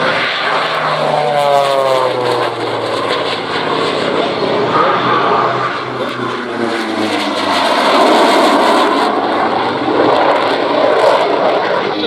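Loud propeller aircraft engine drone at the Oshkosh EAA AirVenture airshow, with a plane passing overhead and its pitch sweeping down, then a second swelling engine roar that fades and returns.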